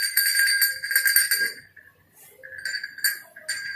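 Century-old small kelinting bells from a Reog costume, once worn at the chest, jingle and clink brightly in close, repeated bursts with a short lull midway.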